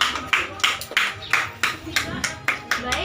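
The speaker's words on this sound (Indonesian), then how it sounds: "tepuk tangan ya untuk Nadia" A small group of students clapping in a classroom for a classmate, about ten sharp, separate claps in a steady, unhurried rhythm, close and moderately loud, with no talk over them.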